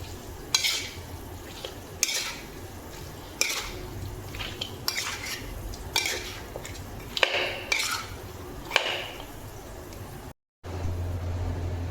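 Chicken 65 marinade being mixed in a bowl, with repeated clinks and scrapes of a spoon against the dish and soft wet squelching at a moderate, fairly quiet level, then a brief dropout near the end.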